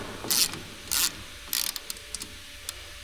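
An Allen wrench tightens the hub bolts on a Clam X400 Thermal XT ice shelter, making a few close, brief ratcheting scrapes and rubs followed by lighter scattered clicks.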